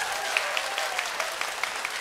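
Dense, steady applause from an audience at a welcome-night concert for a singer, many hands clapping together in a sustained even roar with a few sharper claps standing out.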